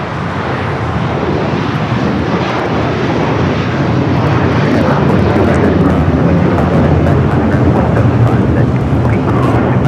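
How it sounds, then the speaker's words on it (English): United Airlines Boeing 757-300 taking off at LAX on a flight to Honolulu, a loud, sustained engine roar that holds steady across the whole stretch with a broad rumble, while voices talk faintly beneath it. "1431 taking off to Honolulu on the 757-300."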